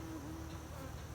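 Honeybees drone in a steady, continuous hum at an open hive during an inspection, close and even throughout with no voices.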